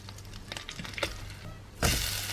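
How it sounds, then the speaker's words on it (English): Butter melts in a hot pan for a breakfast sandwich, starting as quiet clinks and faint crackle, then breaking into a loud, steady broadband sizzle for the last half second or so. "time to melt the butter in a pan"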